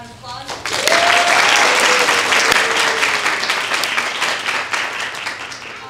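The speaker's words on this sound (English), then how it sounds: "Let's give them a round of applause." An audience applauds a school production cast and set painters, a dense burst of clapping that swells within the first second and holds steady and loud to the end, with faint voices underneath.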